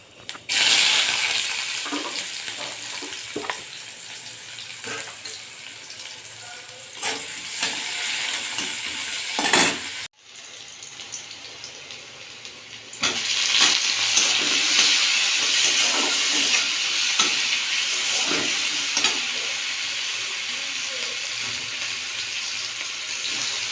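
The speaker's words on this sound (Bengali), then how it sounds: "এবার ফোড়নটা দিয়ে দেবো।" Spices hit hot oil as a tempering for boiled cabbage, bursting into a loud, close sizzle that drops off briefly, then surges again and settles into steady frying with stirring clatter, no talk.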